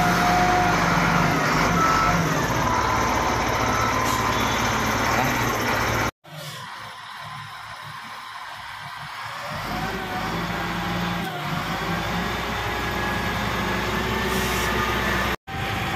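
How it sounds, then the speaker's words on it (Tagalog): A Sunward SL52W 3 cubic meter wheel loader works up close with a steady loud diesel engine drone, recorded from aboard the machine. Reversing beeps and a brief drop in sound occur partway through. "magtatrabaho na Sunward SL52W"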